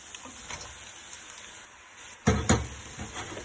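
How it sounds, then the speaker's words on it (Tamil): Egg and torn parotta being mixed in a hot pan for hotel-style egg kothu parotta, a faint steady sizzle punctuated by two sharp metal knocks of the utensil against the pan. "இந்த ஸ்டேஜ்லேயே பரோட்டாவை போட்டு அந்த முட்டையோட நல்லா கம்பைன் பண்ணிக்கோங்க."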